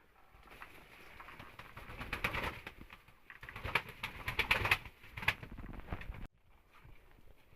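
Tumbler pigeons coo repeatedly and flutter softly during a night feeding. Low, rhythmic cooing comes up close with a few light pattering sounds before the noise cuts off abruptly.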